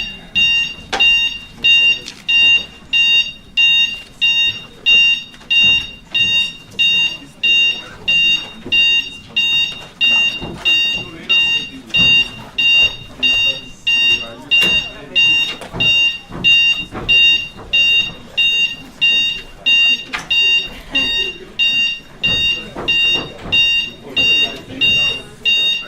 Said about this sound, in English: I think that's a fire alarm by the look of it.